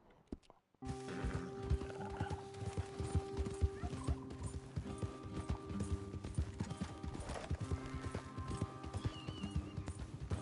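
Horses walking in Red Dead Redemption 2, steady clip-clop hoofbeats close by with occasional snorts and a whinny, continuing throughout over a light outdoor ambience.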